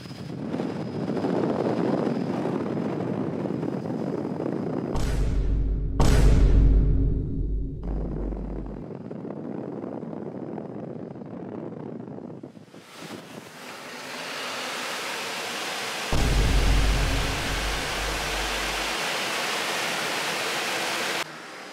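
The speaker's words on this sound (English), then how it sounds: "That was a lot of wind." Strong simulated category 1 hurricane wind roars inside a museum hurricane chamber in Ohio, a loud, steady rushing blast that surges in heavy gusts, drops away briefly, then builds again to full force with no talk over it.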